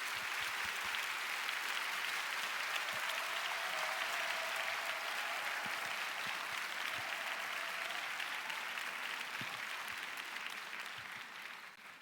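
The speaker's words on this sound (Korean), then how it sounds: "목사님 나오실 때 힘찬 박수로 환영하며 맞이하겠습니다." A church congregation claps steadily to welcome a pastor to the pulpit, an even, fairly distant wash of applause that carries on at length before tapering off at the end.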